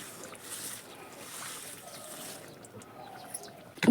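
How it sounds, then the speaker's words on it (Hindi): Water rushes and gurgles steadily outdoors in a hillside garden, a broad hissing wash that is loud at first, then softens toward the end before a sudden close knock. "कितना आवाज़ कर रहा है ये देखिए, इतना पानी उबाल आ रहा है इसमें।"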